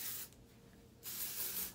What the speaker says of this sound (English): spray it up at the roots.